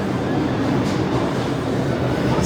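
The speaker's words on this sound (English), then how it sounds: "Nandito kami sa subway." A New York City subway train rolls along with a loud, steady rumbling roar and faint rail noise, heard from close by, continuous and with no break.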